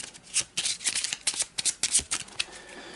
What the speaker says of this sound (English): So give these a good shuffle as well.